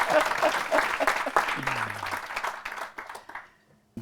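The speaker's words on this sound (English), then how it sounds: "Big round of applause." Audience applause after a leadership talk, steady clapping from a crowd that tapers off to quiet at the end.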